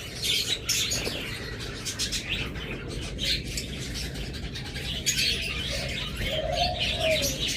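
Pet birds of a breeding pair kept for egg laying, with other caged pairs nearby: steady chirping and tweeting with soft cooing, occasional wing flutters, continuous and moderately close, no talk.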